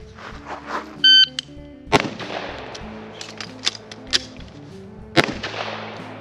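Gunshots from a FLUX Raider X PDW during a reload drill: sharp, loud reports at close range, a couple of quick shots, then a pause, then another burst, with beeps and the clatter of handling in between.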